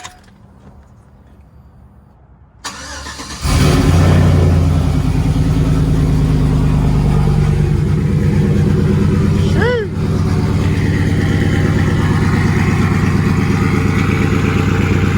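A V8 single-cab pickup truck cold-starts after a few quiet seconds: a sharp crank and catch, then a loud, deep, rumbling idle that holds steady with a brief dip partway through.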